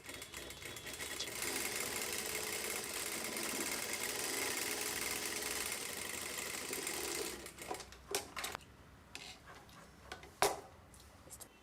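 Sewing machine stitching a boat-neck princess-seam blouse runs in a steady, dense whirring rattle for about seven seconds, then stops and gives way to scattered clicks and handling knocks, close and fairly quiet.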